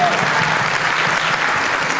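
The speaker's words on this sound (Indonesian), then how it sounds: "tepuk tangan dulu yuk" An audience clapping at a seminar, a dense, loud, continuous round of applause that stays steady throughout the short moment, with a murmur of voices underneath.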